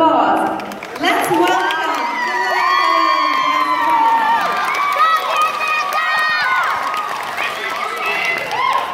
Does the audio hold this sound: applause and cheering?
yes